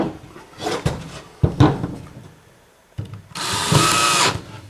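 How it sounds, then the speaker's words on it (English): A power drill with a screwdriver tip drives and tightens screws into wooden follower boards for a top-bar beehive, giving short whirring bursts, then one longer loud run near the end, with clunks of handling between. "We'll replace our bit with a screwdriver tip and tighten those up."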